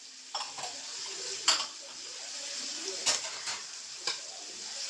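Garlic and ginger paste fries in a pan for chicken chilli, a soft, steady sizzle broken by several sharp clinks and scrapes of a spoon against the pan, fairly quiet and close.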